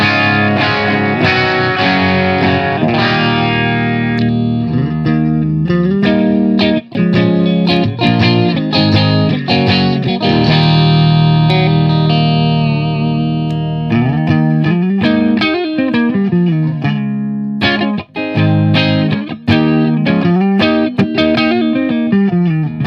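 Electric guitar played through the clean channel of a Blackstar HT Stage 100 MKIII three-channel amp, with sustained chords and melodic runs ringing out continuously and loudly, no voices present.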